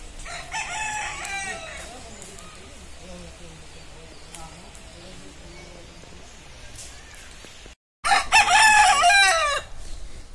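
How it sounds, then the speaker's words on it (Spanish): A fighting rooster crows loudly and close by near a river, with clucking fowl and outdoor ambience; a voice speaks in the background. "Esto es un gallo de, de pelea, miren."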